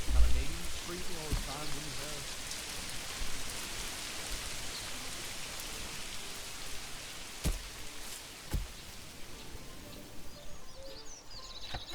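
Steady rain pattering down on a town in the Manor Lords game, a dense, continuous hiss with a few louder drop hits and faint bird calls behind it.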